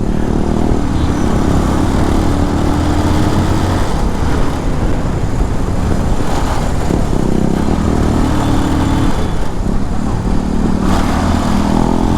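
A 250cc motorcycle engine runs steadily close by, a loud, rough drone with a little rise and fall in revs and no talking.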